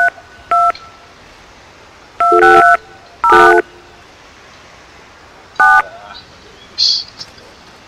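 Touch-tone telephone keypad beeps from the game Jurassic Park Trespasser sound in short separate bursts, some single and some doubled, with a brief higher tone near the end. One word is spoken among them.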